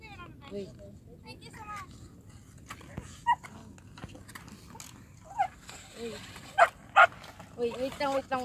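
Playing dogs bark and yip in short sharp bursts, several louder barks clustered toward the end, with people talking in the background.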